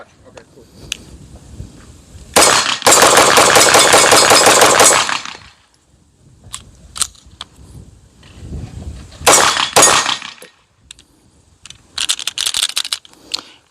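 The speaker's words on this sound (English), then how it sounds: "we're gonna do a mag dump" Rapid mag dump from a KDS9C rifle at about 125 yards: loud, close bursts of fast gunfire, one long string and shorter volleys, with scattered single shots and brief talk between them.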